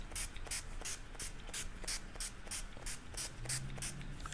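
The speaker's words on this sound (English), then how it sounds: "I like to put setting spray before I put my highlighter" A bottle of makeup setting spray is pumped repeatedly at close range, a quick regular series of about a dozen short misting hisses.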